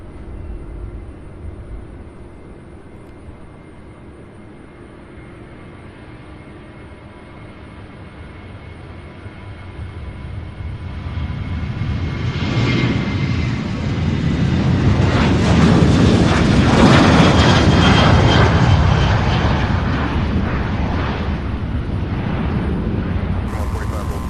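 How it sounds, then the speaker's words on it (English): A Southwest jet airliner at Louisville's SDF airport spools up and begins its takeoff roll, a broad roar swelling steadily from a distant rumble to a loud, sustained peak before easing slightly. "I do believe the Southwest flight did get cleared for takeoff. I do believe it. I hear it spooling up now."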